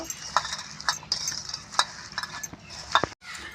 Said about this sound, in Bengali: এবার এটাকে খুব ভালোভাবে আমি মাখিয়ে নেব